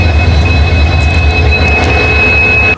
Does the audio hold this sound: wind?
no